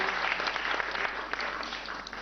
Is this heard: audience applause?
yes